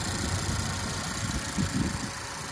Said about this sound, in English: the 2018 Focus SE does have a 2-liter double overhead cam 4-cylinder producing 160 horsepower